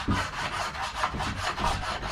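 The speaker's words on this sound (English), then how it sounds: "I'm using that plane to file down, or plane down this edge" A hand plane shaving down the edge of a wooden bookshelf, a close, steady rasping of blade on wood in short repeated strokes.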